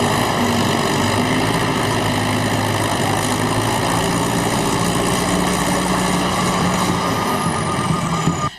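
A tractor engine runs steadily at a ceremonial first ploughing marking the start of the 2013-2014 farming season in Chad, a loud constant drone with no voices.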